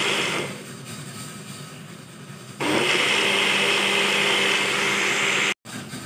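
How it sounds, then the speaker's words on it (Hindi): A small kitchen blender whirs loudly as it purees a curd mixture for kadhi, running in two sustained bursts, rising in pitch once it picks up speed, then cutting off abruptly near the end. "इसको और ब्लेंड करेंगे। मशीन छोटी है इसलिए मैं थोड़ा थोड़ा करके कर रही हूँ।"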